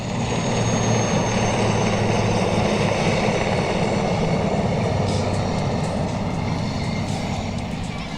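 A helicopter circles overhead in Constanța, Romania, a continuous rotor and engine hum, fairly distant but steady, over broad outdoor wind noise.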